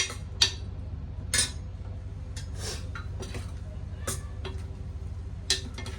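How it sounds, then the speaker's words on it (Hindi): Occasional light metallic clinks and scrapes of a spoon against a pan while sautéing masala with tomato, spaced irregularly over a low steady background hum. "तो चलिए इसको अच्छे से भून लेते हैं।"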